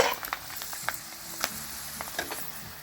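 A papad roasting in a pan, a quiet crackle with small irregular pops and ticks scattered over a soft sizzling hiss, close and fairly faint.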